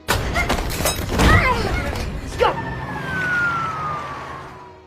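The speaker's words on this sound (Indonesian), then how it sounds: "terdengar suara sirine polisi" A police car siren wails through a tense film scene, its long sweeping tone rising out of a noisy scuffle and holding steady at moderate distance.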